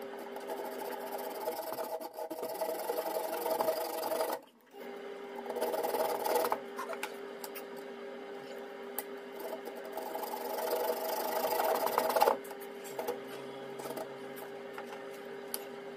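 A power tool cutting away thread from a CO2 valve part for an Artemis CP2/Diana Chaser air pistol, making a thin steady whirring grind with a brief pause partway through, close up and without talking.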